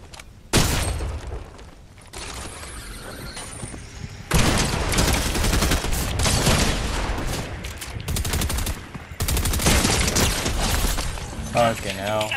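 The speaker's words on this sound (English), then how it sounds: "I hate the drum gun so much." Rapid bursts of drum gun fire from Fortnite ranked play, loud and close, repeating in long chattering volleys with brief pauses between them, mixed with other game effects.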